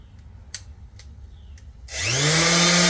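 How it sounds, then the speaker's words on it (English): A small orbital sander powered through an inverter in a cargo trailer camper conversion starts up near the end, a steady loud whine and buzz after a short quiet stretch with a few faint clicks. "orbital sander here."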